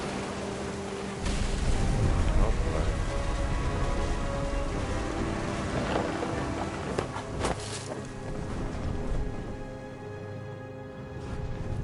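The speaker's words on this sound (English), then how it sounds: "The thunder sounded much too close and full of angry power." Rain and rumbling storm noise from a thunderstorm in the game What Remains of Edith Finch, with a steady broadband wash of rain and low rolls rising and fading over the stretch, no voices.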